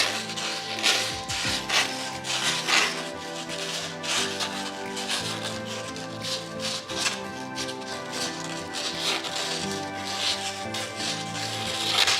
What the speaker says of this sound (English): I'm going to sandpaper it first to make sure that the acrylic paint sticks.